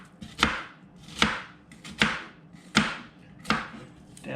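A knife chops onion on a board for griddle burgers, five crisp, evenly spaced strokes landing close by with quiet gaps between them.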